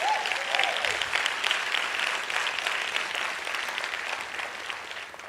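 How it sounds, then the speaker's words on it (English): An audience applauds the artists after a peace lecture, sustained and even clapping from a large crowd that holds steady without a break and then fades slightly. "So please do give a round of applause to all our brilliant artists who were with us tonight."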